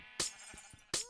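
Sheep in a video game giving two short bleats about a second apart, the first one followed by faint low thumps, clear and close with no talk.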